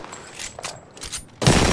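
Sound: gunfire in video game Apex Legends

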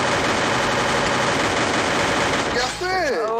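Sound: gunshots in a video game

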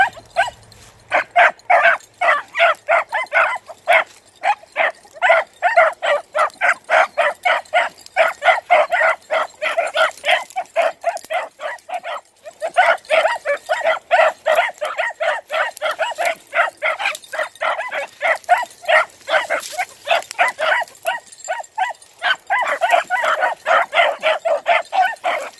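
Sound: dogs barking while chasing a rabbit

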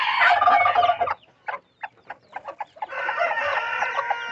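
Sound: bantam hen with chicks

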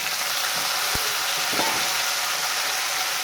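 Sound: frying potatoes with eggplant and ridge gourd in a pan

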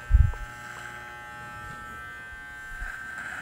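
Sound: electric hair clipper cutting hair

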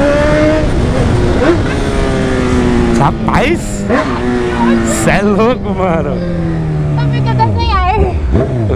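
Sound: Honda CB1000 motorcycle engine roaring

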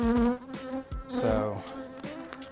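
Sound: honey bee buzzing at the microphone

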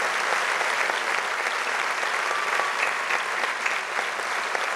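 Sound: audience applause at gala

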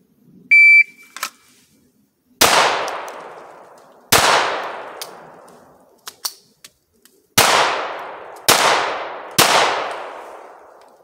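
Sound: shot timer beep and gunshots fired at steel targets

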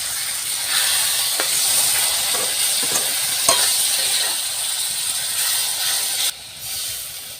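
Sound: spices frying with a little water, stirred in pan

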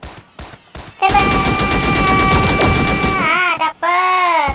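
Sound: gunfire in Sausage Man video game

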